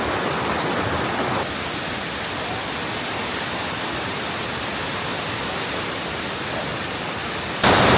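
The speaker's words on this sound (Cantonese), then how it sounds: "後邊呢個就係千層瀑布啦" Tumpak Sewu waterfall in East Java, a tall tiered cascade in a valley, pours with a loud, steady, broadband roar that holds evenly throughout and swells slightly louder at the very end.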